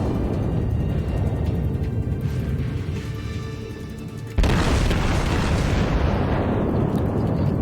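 A World of Warships battleship fires a main gun volley, a sudden heavy boom that cuts in partway through and rolls on as a loud, sustained rumble over the steady drone of the ship at sea.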